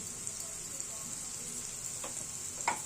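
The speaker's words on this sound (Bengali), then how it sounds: "এখন বন্ধুরা আমাদের সবজিগুলো ঠিক ভাজা ভাজা হয়ে গেছে" Mixed vegetables frying in a pan for vegetarian chow mein, a quiet steady sizzle with a couple of brief scraping stirs near the end.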